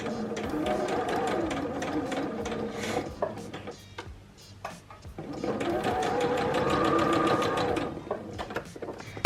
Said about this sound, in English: I'm just going to sew across that little opening quite close to the edge.